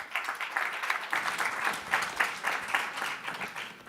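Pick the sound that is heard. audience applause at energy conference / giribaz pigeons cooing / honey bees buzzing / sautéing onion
audience applause at energy conference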